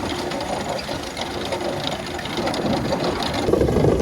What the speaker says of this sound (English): Tractor's skidding a bit now.